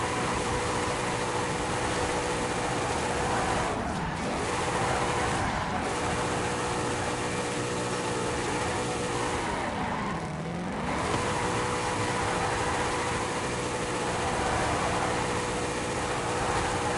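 A revving Formula Drift car engine in Forza Horizon 5 drones steadily throughout, with pitch dipping and rising in a couple of sweeps.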